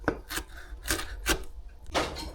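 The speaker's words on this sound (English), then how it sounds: "Now I'm going to slice up a bunch of cilantro and add it to the mix as well" A knife chops a bunch of cilantro finely on a cutting board, giving five or six crisp, close knocks spaced unevenly with brief scraping between them and no talk.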